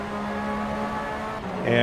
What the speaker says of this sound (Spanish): Y ya cuando vaya a salir de la curva, entonces sí ya aplico todo el acelerador.